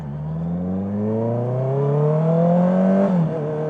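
A Honda CBR 650R motorcycle's inline-four engine revs up in one smooth rising whine that climbs for about three seconds, then drops sharply. The sound is close and loud, with no voices.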